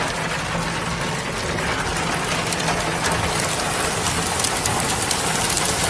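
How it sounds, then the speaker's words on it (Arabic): Heavy rain mixed with hail pelting a car hood during a storm in Hail, Saudi Arabia, a dense, continuous clattering hiss that stays loud and even throughout, with no voices. "شوفوا البرد على الكبوس لحد الآن تمطر"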